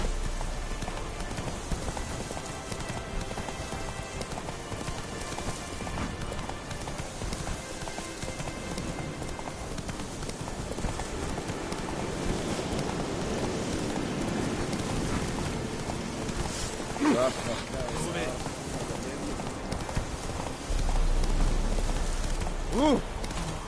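Horse galloping in the video game The Witcher 3, a steady run of hoofbeats under wind and rain-like ambience, growing slightly louder near the end with no talking.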